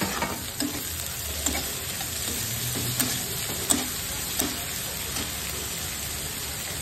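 Potato, cabbage and carrot sizzle steadily in a pan while a spoon stirs them, with a constant frying hiss and periodic scraping strokes.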